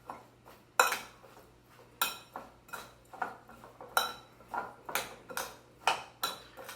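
Cucumber kimchi ingredients mixed in a bowl with a utensil, a rhythmic series of clattering knocks and scrapes roughly every half second, close and distinct over quiet background.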